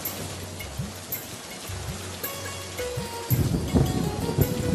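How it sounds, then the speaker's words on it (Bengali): Cartoon rain falling over a village on a monsoon day, a continuous hiss of rainfall with swooping tonal effects layered in, building louder toward the end. "শাপলা, দিয়া ও রাজু বৃষ্টির পানিতে ভিজতে ভিজতে নদীতে মাছ ধরতে যায়।"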